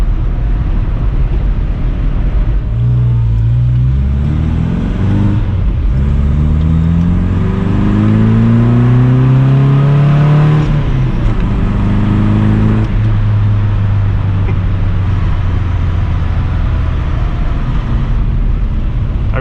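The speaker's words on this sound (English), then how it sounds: "I really can't get over how good this car sounds." An MG car driving on tight, rough roads, its engine pulling loudly and climbing in pitch through repeated rising and falling revs, with wind and road roar underneath and no talking.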